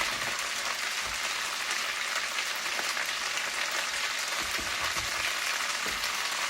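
One whole large onion sears in a pot for a cheesy potato and ham casserole, giving a steady, dense sizzle that hisses evenly throughout with no talk.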